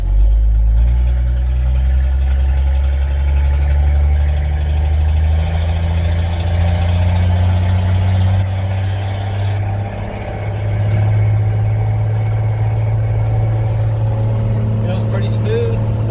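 A car engine idles steadily and loudly after a rear lowering kit has been fitted to the project car, holding a deep, constant hum for the whole stretch with a brief dip near the middle.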